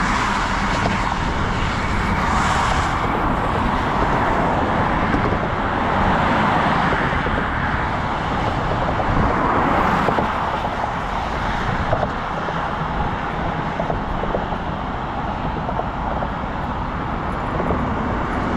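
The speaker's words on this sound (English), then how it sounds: "can actually feel the bridge shaking a little bit as traffic goes by" Traffic rolls across a bridge on the Pennsylvania–New Jersey border, heard as a continuous loud roar of passing vehicles with slowly swelling and fading rushes, no talking.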